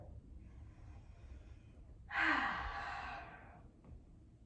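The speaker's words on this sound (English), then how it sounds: "Take 2 deep breaths here" A single deep breath drawn and slowly released during a gentle yoga stretch over an extended leg: a soft, airy sigh, close and quiet, over a faint background hum.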